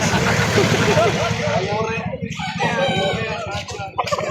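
Chickens and a rooster at a busy livestock market in Victoria, Laguna, loud crowing and clucking close by, mixed with people talking and general crowd noise.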